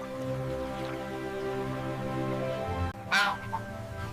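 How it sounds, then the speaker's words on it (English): A goose honks, its nasal calls coming briefly and loud near the end of the clip after a long tonal musical passage. "This is a goose."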